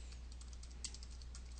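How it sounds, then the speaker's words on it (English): Fingers type on a computer keyboard in a quick, even patter of light clicks, steady and close, over a low constant hum. "and then you start typing"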